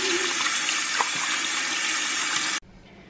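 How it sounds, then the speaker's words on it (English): Tap water runs in a steady, loud rush for hand washing in a kitchen, close by, then cuts off abruptly near the end, leaving quiet room tone. "we wash our hands before we start cooking"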